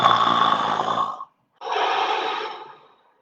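A group of children at a pajama storytime imitates a wolf snoring, with two long, loud, raspy breaths separated by a short silence, the second fading out at the end.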